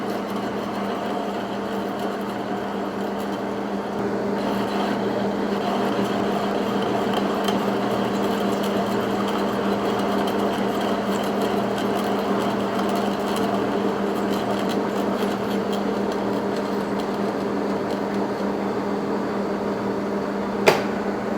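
A lathe turns slowly to face off the output shaft of a crankshaft, giving a steady motor hum with a faint, even cutting tone throughout and one sharp tick near the end.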